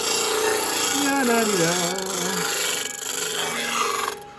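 A disc sander grinds against a wooden hand mirror handle, a loud, continuous close-up rasping and rubbing with a shifting pitch that fades slightly near the end.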